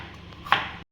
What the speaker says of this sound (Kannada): ಕ್ಯಾಪ್ಸಿಕಮ್ನ ಫೈನ್ ಡೈಸಾ? ಇಲ್ಲ, ದಪ್ಪ ಡೈಸು.